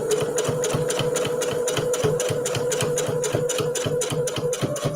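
A sewing machine stitches a Christmas tree table runner in a fast, steady mechanical rhythm, running loud and close without pause and with no talking.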